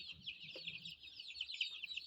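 Young chicks in a brooder converted from a chest freezer, with continuous high-pitched peeping and cheeping from many birds, fairly faint but steady throughout, with no talking.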